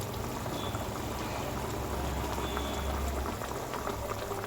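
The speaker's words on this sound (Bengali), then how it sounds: "এবার মাছটা একটু ফুটে যাক।" Fish curry with ghee boils in a pot, giving a steady, close bubbling simmer throughout with no voices.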